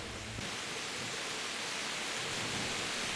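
Steady, dense hiss of rain falling in a video game, continuous and even with no pauses or voices.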